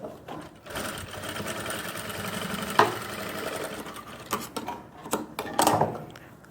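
A sewing machine runs steadily while stitching elastic into the waistband of women's pants, a continuous close mechanical whir with a few sharper clicks and bursts toward the end.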